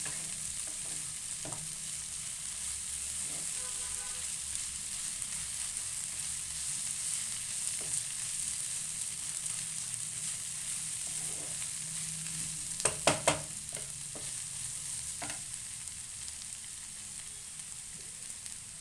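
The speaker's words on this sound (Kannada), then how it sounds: "ಟೊಮೊಟೊ ಹಣ್ಣು ಪೇಸ್ಟ್ ಸೇರಿಸ್ತೀನಿ ಇದಕ್ಕೆ ಹಾಕ್ಕೊಂಡಿದ್ದೀನಿ" Tomato paste sizzling and frying in a hot pan for an egg cutlet curry, a steady crackling hiss throughout with occasional stirring scrapes and a quick cluster of utensil taps near the end.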